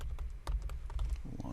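Quick, close keystrokes clatter on a computer keyboard as a description is typed, with irregular taps over a short burst and a voice talking at the end.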